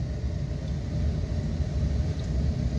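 A 2020 Hyundai Elantra driving on a street: a steady low engine and road rumble, even and continuous from inside the cabin, with no voices.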